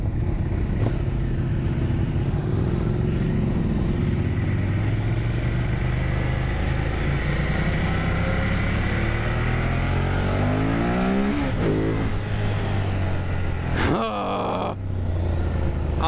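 A Ducati Monster 1200S motorcycle engine revs and accelerates loudly and up close, the pitch climbing through several gear changes with quick-shifter blips, then briefly dropping near the end.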